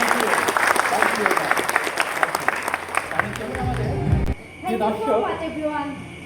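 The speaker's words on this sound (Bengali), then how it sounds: "তার জন্য জোরে হাততালি হবে, জোরে" Audience applause for magician Jewel Aich's birthday at a stage magic show, loud sustained clapping from a crowd that cuts off abruptly, followed by a voice speaking over a quieter hall.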